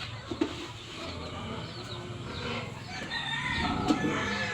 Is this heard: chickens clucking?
yes